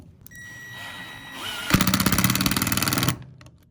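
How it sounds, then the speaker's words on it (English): A power drill whirs up and bites into PVC pipe, its motor rising in pitch before a loud, rapidly pulsing grinding burst of about one and a half seconds, then cutting off abruptly. "gonna take a drill, gonna drill a hole here"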